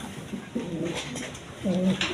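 Big, quality pigeons coo softly at a breeder's farm, two low throaty coos a moment apart over a steady hiss of background noise.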